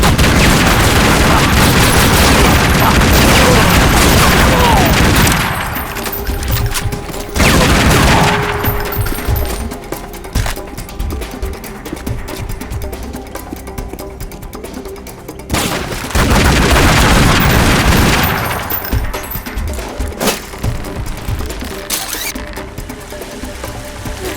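Heavy gunfire in Tomb Raider: Legend, dense loud bursts of shots and booms that ease off into quieter scattered firing before a second strong volley and a fading tail.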